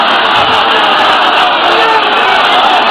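A large audience at a religious gathering chants a slogan in unison, a loud, steady roar of many voices that fills the space without pause.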